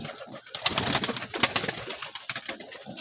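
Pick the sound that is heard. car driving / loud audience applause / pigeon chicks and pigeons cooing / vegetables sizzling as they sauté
pigeon chicks and pigeons cooing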